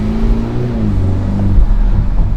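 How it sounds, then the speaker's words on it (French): A BMW 4 Series Convertible engine hums steadily while coasting downhill, a low, smooth drone heard from inside the car with a slight pitch drop partway through. "Je vais vous faire écouter le moteur en descente."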